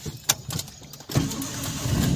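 A car engine starting during a manual-car driving lesson: a few light clicks and thumps, then the engine catches about halfway through and settles into a steady idle, close by with no talking.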